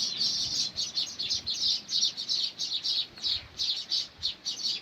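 A dense flock of baya weaver birds chatters and chirps nonstop in rapid, pulsing bursts near their nests, fairly close, with no voices.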